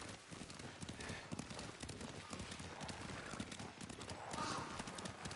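Steady clip-clop of horse hooves at a trot in the video game Ghost of Tsushima, continuous and fairly close, with an occasional snort or whinny in the mix.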